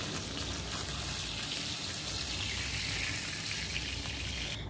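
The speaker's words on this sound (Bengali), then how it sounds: "মাছটাকে এক পিঠ ও পিঠ করে পাল্টে পাল্টে খুব ভালোভাবে লালচে করে ভেজে নেবে।" Tangra fish fry in oil in a pan, turned from side to side until reddish, giving a steady, even sizzle and crackle that stays constant and close for the whole stretch.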